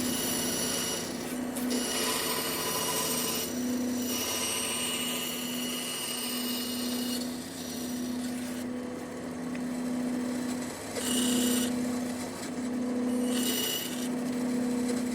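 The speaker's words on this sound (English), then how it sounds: "Over at the bandsaw now, and I can make the first cut just inside the line all the way down to the hole we just drilled." A bandsaw cuts a curved line through a wooden workpiece in a woodshop, giving a continuous rasping whine over a steady motor hum, the pitch and bite rising and easing as the blade works along the cut, close and without talk.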